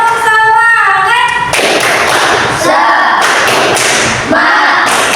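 A classroom group claps a rhythmic cheer in unison, sharp repeated bursts of hand claps mixed with loud chanting voices.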